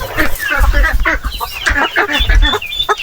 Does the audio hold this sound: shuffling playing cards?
no